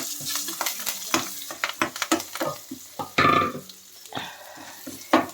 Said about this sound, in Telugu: చూడండి చక్కగా వేగనిద్దాం.